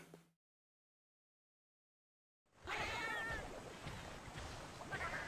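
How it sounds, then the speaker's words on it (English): Cats meowing in the Monster Hunter video game: a short faint sound, then silence, then a loud busy burst of repeated meows and yowls over a dense game soundscape for the final few seconds. "I only see cats and I am shooting at them"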